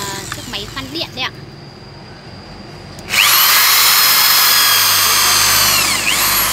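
A cordless drill flaring a copper pipe starts up partway through after some quieter handling sounds, then runs as a loud, steady high whine with rising and falling pitch to the end.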